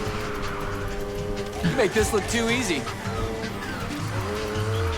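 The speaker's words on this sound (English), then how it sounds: "the drifting feels a lot more interactive now" Car drifting in Need for Speed Heat: an engine drone with a wavering tire squeal that peaks midway, while someone talks over it.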